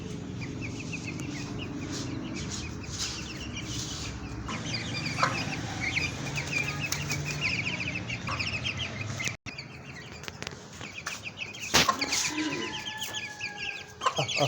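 A hen clucks with her chicks on a farm, the low clucks steady and close while the chicks' thin high peeps keep coming throughout, with no talk.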